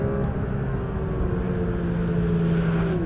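A Porsche 911 GT3 RS of the 992 generation, its 4-litre flat-six engine running with a steady, moderately distant drone and faint rising pitch near the end, heard alone without voices.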